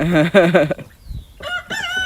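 Backyard chickens cluck and crow in short, loud, close bursts, a harmonic squawk at the start and more crowing near the end, with a brief quiet gap in between.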